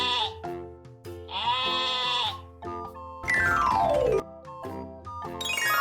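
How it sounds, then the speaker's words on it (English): Sheep bleat in several separate wavering calls, some long and some clipped, loud and close, with short pauses between them and no talk. "Sheep sound is baa, baa."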